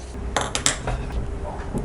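A metal pan set down on a stove before tempering for a vegetable kurma, giving a few short clanks and scrapes over low kitchen background noise.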